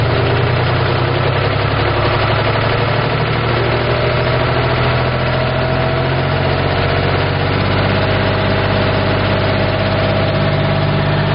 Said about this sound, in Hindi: और अब हम इसका जो आरपीएम है वो बढ़ाकर आपको दिखाएंगे।